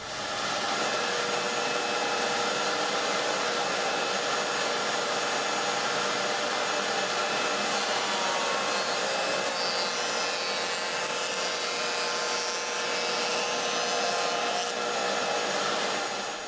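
A router table makes a half-inch-deep pass along a wood panel, a loud continuous high-pitched whine and roar that holds steady for the whole stretch with no voices.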